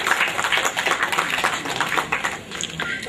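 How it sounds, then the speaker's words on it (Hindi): An audience at a social-service honoring ceremony claps steadily, a dense wash of many hands at fairly close range, continuing without a break throughout. "जोरदार तालियां बजाने कि किसी का सम्मान हो रहा है एक अच्छे काम के"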